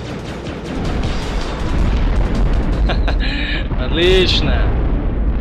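Laser cannon blasts erupt in the sci-fi strategy game C-12: The Final Resistance, deep rumbling booms layered with synthetic whooshes and pops, heard under someone talking.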